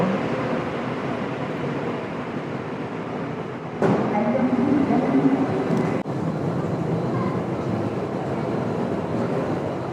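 GTX-A train at Seongnam station, a subway-like underground platform, heard as a steady continuous rumble of the train and station with a brief louder surge midway; voices may sit faintly underneath.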